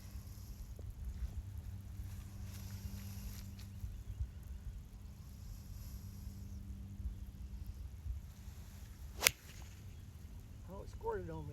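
A 4-iron golf shot from about 200 yards at Southern Hills Golf and Country Club gives one sharp, loud club-on-ball strike over quiet outdoor ambience.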